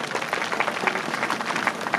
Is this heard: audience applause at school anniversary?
yes